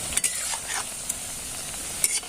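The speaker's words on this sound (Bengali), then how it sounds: "এরকম হালকা করে নেড়ে চেড়ে একটু উল্টে পাল্টে ভেজে নেব চপগুলোকে" Semolina and potato chops frying in oil while being turned over make a soft, steady sizzle, with a few light clinks from stirring.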